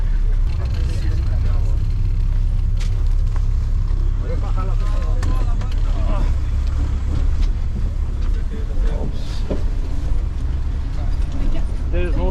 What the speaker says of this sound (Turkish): Otobüs burası